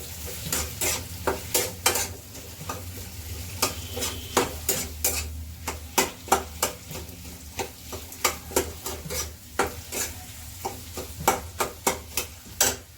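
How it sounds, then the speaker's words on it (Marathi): A spatula stirs garam masala into frying potato sabzi, giving a loud sharp scrape and tap roughly every half second over a continuous sizzle, heard up close. "मसाला घातल्यावर थोडं हलवून घेऊया आपण"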